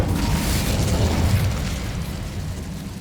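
Bombarda explosion spell cast in the video game Hogwarts Legacy: a loud, sustained blast with a deep rumbling low end that slowly fades over three seconds, heard alone without voices.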